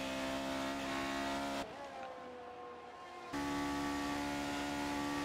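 Formula 1 race cars, a Ferrari and a McLaren, in the F1 2018 game at the Japan circuit, with a sustained high-pitched engine whine that drops away briefly before the loud, steady drone returns.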